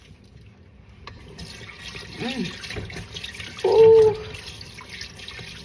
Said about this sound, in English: So me I go wash me hand again.